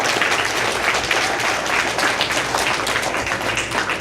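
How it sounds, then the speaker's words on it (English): Audience at a Future Leaders ceremony in San Pedro applauding families, a dense, steady wash of clapping from a large crowd, loud and sustained throughout. "give them a round of applause for being with you along the way"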